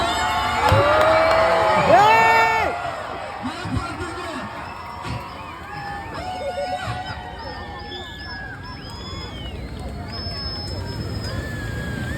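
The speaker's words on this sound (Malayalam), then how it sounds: "ആർത്ത് വിളിച്ച് കൈയടിക്കൂ മക്കളെ" A crowd at a village tractor race festival cheers and whoops loudly, with children shouting amid a hubbub of voices; an announcer calls out over the noise, which peaks early and then settles into steady babble.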